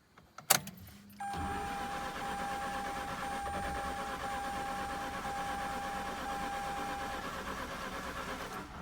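Mazda RX-8 rotary engine, a couple of sharp clicks and a brief crank, then a steady, even running drone holding at moderate level to the end.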